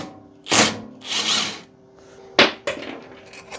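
Power tool working a nut loose on a $60 snowblower, with short loud bursts of whirring and ratcheting separated by pauses, followed by a couple of sharp clanks.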